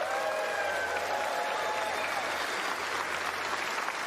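A studio audience applauds and cheers in a steady, dense wash of clapping with a few whoops rising through it, moderately loud throughout.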